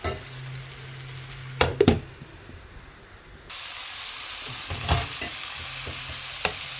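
Mutton intestine sautéing in oil in a pan for kudal curry, a steady sizzle and hiss broken by a few sharp clinks and scrapes of stirring, close up, with no talk.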